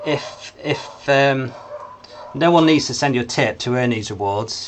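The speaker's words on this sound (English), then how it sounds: "You can probably hear my dogs barking in the background." Several dogs bark in the background at home while a person talks steadily over them, the barks sounding muffled and intermittent beneath the voice.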